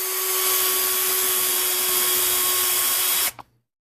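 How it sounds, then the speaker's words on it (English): An electric drill bores a hole, a loud, steady high whine close by, stopping abruptly near the end with a brief clatter before silence. "Let me get the other hole drilled"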